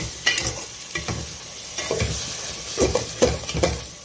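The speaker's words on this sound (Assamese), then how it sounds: "এয়া মই মছলাখিনি ভালদৰে ভাজি ল'লোঁ।" Spices fry in a pan with a steady sizzle while a spoon scrapes and stirs in repeated strokes, producing several clear knocks and scrapes against the metal.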